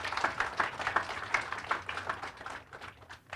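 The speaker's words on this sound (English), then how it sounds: "So a big round of applause for the panelists." Light, sparse clapping from a modest audience at a women's leadership summit panel, individual claps audible in an uneven patter that thins out toward the end.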